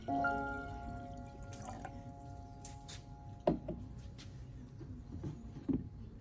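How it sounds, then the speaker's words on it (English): Activated charcoal and coffee solution poured onto the root zone and growing medium of a potted Anthurium, giving soft, close trickles and scattered drips with a couple of sharper splashy clicks over a low background hum, no voices. "I pour the activated charcoal and coffee solution directly onto the root zone and the surface of the growing medium of the Anthurium."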